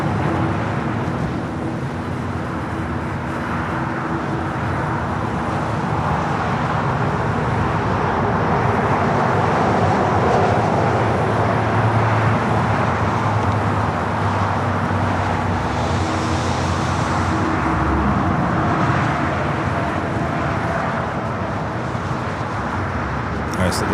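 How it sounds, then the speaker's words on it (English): A Lufthansa Boeing 747 lands on runway 24 right at LAX, a continuous loud jet roar blended with road traffic noise, while a voice talks over it. "nice little Lufthansa Queen touching down at 24 right"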